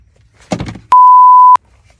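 A single steady censor bleep tone, loud and clean, lasting just over half a second right after a brief burst of talk, with quiet surroundings on either side.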